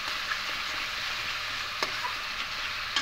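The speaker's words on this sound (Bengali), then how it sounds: "ডালটাকে খুব ভালো করে মশলার সঙ্গে কষিয়ে নেব।" Soaked mung dal stir-fried with spices in a pan sizzles with a steady, fairly quiet hiss, punctuated by a few light clicks and scrapes of stirring.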